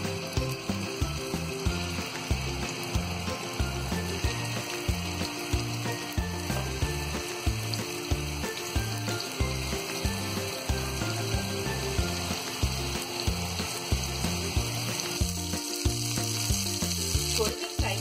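Galouti mutton kebabs frying in about two tablespoons of oil in a pan, giving a steady, dense sizzle that runs unbroken throughout, with a rhythmic low thumping beat underneath.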